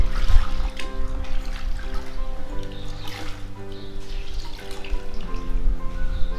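Water runs and drips steadily into a basin from wrung-out laundry while items are rinsed by hand, close and continuous, with a low tonal hum underneath.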